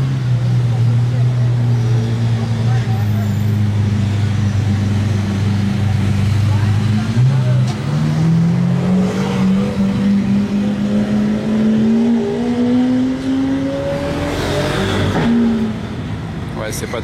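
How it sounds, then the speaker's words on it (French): Lamborghini Diablo SVJ supercar, 1995, with a non-original aftermarket exhaust, revving loudly up close: a steady low drone rising through the rev range, then climbing again in a long sweep that ends abruptly. "Je sais pas s'il y a un bon échappement, celle-ci, on va écouter ça ensemble."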